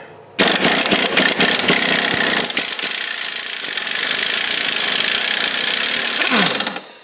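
An impact gun hammers at an 18 mm motor mount bolt on a 2001 Buick Park Avenue, starting with a few short rattling bursts and then a long continuous loud rattle before it stops.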